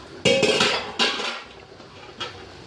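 A metal cooking pot being handled in a kitchen while preparing a gluten-free rfissa with chicken, giving three separate clanking, clinking knocks of metal on metal, close and fairly loud, with no talking.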